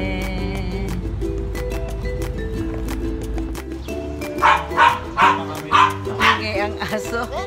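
During a family day out, a dog lets out a rapid string of six or so sharp barks, fairly close and loud, over a steady tonal background hum.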